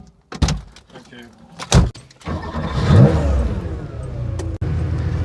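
A classic Porsche 911 SC has its door shut with a few clunks, then the engine starts and revs up, loud and close, with a steady run afterward and another door thud near the end.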